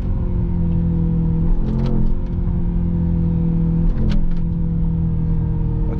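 A Mercedes-AMG GT63 S E Performance engine drones steadily under acceleration on the Autobahn with a deep, low rumble, rising slightly at moments but staying fairly muted throughout.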